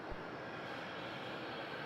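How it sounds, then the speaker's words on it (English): A Qantas Dash 8-400 turboprop departing runway 27 at Melbourne Airport makes a steady, distant broadband engine roar that holds level throughout. "departing on 27, Qantas Wing 59 off to Devonport, Dash 8400"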